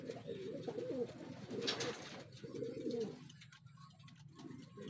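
Racing pigeons coo softly and repeatedly in low, rolling phrases, fairly close but faint, with a brief rustle of movement partway through.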